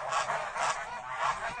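A flock of huge farm geese in winter honks steadily in a dense, overlapping chorus close by, with loud calls rising in a few pulses.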